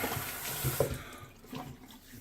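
Water runs steadily from a bathroom tap into a sink for re-wetting the face before a shave with a Permasharp blade, a close, continuous splashing flow with no talking.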